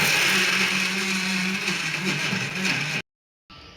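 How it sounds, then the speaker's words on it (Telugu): A kitchen mixer grinder runs loud and steady, grinding jaggery for Telangana kajjikayalu sweets, then cuts off abruptly before a short burst starts again. "అత్తయ్య చెప్పినట్టు మనం బెల్లం మిక్సీ పట్టుకోవాలి"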